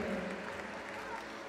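Audience applause at a high jump competition, steady clapping from a crowd lasting throughout, with an announcer's voice running over it.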